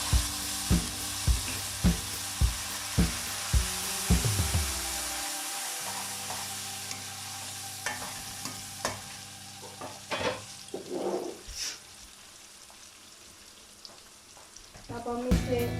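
Onions fry in a pan with a steady sizzle under a run of regular knocking taps at first, then scraping stirs and clatter as the frying hiss softens toward the end.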